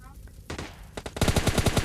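Rapid automatic gunfire in a mobile battle-royale shooter game, starting with scattered shots and building into a loud, dense burst of fast repeated bursts near the end.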